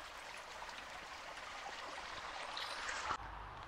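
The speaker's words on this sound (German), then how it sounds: "Das Wasser kommt aus einem Schlauch raus, der da liegt." Water gushes steadily from a broken hose lying on the ground beside a Swiss hiking trail, a continuous hissing, splashing rush heard close and alone, with a brief bump near the end.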